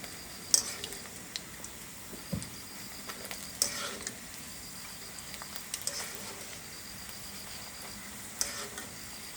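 Slices of raw green banana fry as chips in a pan, giving a quiet, steady sizzle and bubbling, with occasional light clicks and stirring taps of a utensil against the pan.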